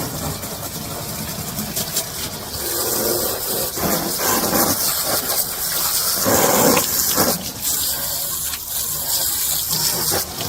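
Water sprays and gushes over the vinyl seats of a 2008 Club Car Carryall PT golf cart to rinse off cleaner, a rushing, splattering hiss with uneven bursts and surges throughout.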